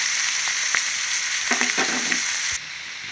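Bitter gourd pieces fry with chana dal in a pan, giving a soft, steady sizzle with a few light stirring scrapes before the sound drops away.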